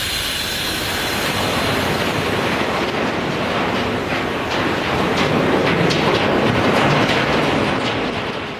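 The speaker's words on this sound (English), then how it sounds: "Trains from here are the longest," A huge, heavy iron ore freight train rolls past at close range, its steady loud roar carrying rhythmic wheel clatter and squeal for the whole stretch, with no voices.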